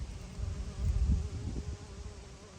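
Bees buzz around squash flowers in a backyard garden, a soft low hum that swells briefly near the middle before fading, with no talk.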